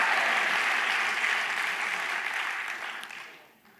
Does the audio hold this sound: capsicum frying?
no